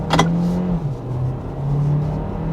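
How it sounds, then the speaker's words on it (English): A 2023 Kia Sportage with a 6-speed automatic accelerates hard, its steady engine drone dipping and settling as it shifts gears, heard from inside the car with no talking. "So you do feel it and hear it change gears"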